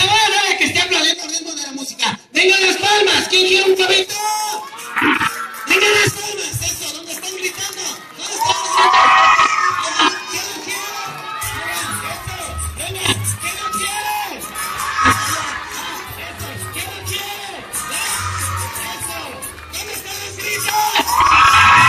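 A crowd cheers, whoops and shouts loudly and almost without pause during a street procession from the Alameda Bellas Artes to a church, with excited children's voices and talk mixed into the din.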